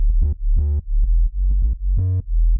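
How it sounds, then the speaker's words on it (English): A deep, smooth sine-wave sub bass from a Vital synth preset with soft-clip distortion plays short notes with slight gritty saturation, loud and solo, with brief gaps between phrases. "I had another Vital preset which is just a sine wave with some soft clip distortion."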